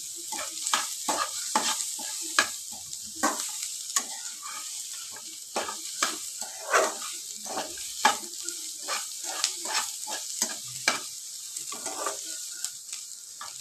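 Bottle gourd peel fries in a pan with a soft, continuous sizzle. Frequent scraping taps from stirring break through it, close and moderate in level, with no speech.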